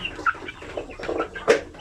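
Free-range chickens raised for sale by the kilo cluck in short, scattered calls, moderately close, with soft farmyard background and no talking.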